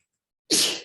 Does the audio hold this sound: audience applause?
no